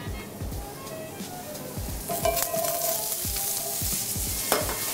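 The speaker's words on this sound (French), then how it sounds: "Et on les fait sauter jusqu'à ce qu'elles soient colorées." Courgettes sautéing in olive oil in a pan, with a steady sizzle and repeated knocks and scrapes of stirring close by, loud and without talk.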